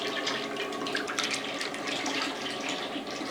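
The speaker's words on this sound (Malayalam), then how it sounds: "ഈ എണ്ണ അങ്ങോട്ട് പൊട്ടിച്ചങ്ങോട്ട് ഒഴിക്കും ഞാനൊരു മൂന്ന് കിലോ അത് മൂന്ന് ലിറ്ററിൻ്റെ എണ്ണയാണ് ഒഴിക്കുന്നത്" Sesame oil poured in a steady stream into a heavy pot for a loobikka pickle, a continuous close liquid splash and gurgle heard on its own.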